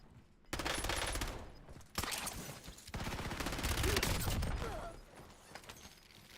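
Sustained automatic gunfire in a Warzone or Battlefield 6 match, dense rapid bursts filling the whole stretch with sharp cracks and brief gaps, loud and continuous throughout.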